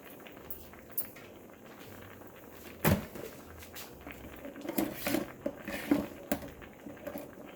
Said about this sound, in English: I'm just getting another bowl, getting a bowl